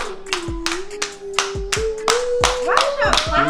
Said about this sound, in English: I don't know why they clapping.